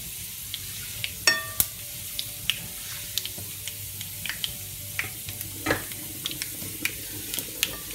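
Garlic, cumin seeds and dried curry leaves sizzle in hot oil in a pan for daal, a steady close frying hiss broken by scattered sharp crackles and a few stirring clinks, with no one talking.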